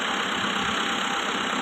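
A Kubota MU 5502 tractor engine idles steadily nearby, a continuous even rumble with no voices over it.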